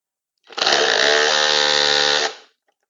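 A Ryobi power tool works against a tight bolt on a blown Ford PX2 engine, giving one loud, close, sustained whine of about two seconds that starts and stops abruptly.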